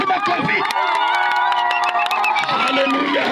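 A church congregation claps and cheers loudly during a sermon, with layered shouts and whoops over dense applause for a few seconds.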